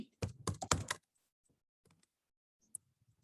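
A short burst of quick close keystrokes on a computer keyboard types a product review, then near silence broken by a few faint taps and one sharp click.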